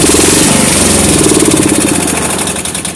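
A Bolens 1476 garden tractor engine converted to run on propane runs loudly and close up, a steady throbbing idle with a slight fade toward the end.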